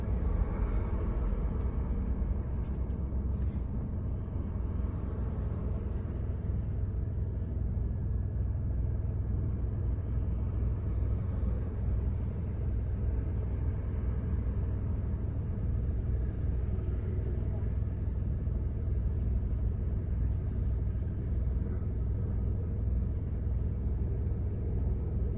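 A car drives along the Pacific Coast Highway between Huntington Beach and Newport Beach, heard from inside the cabin as a steady low road rumble and engine drone that holds evenly throughout, with no voices.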